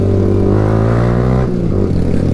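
A KTM Duke motorcycle engine revs close by, a loud, steady throbbing drone that briefly dips and rises again partway through, with no talk over it.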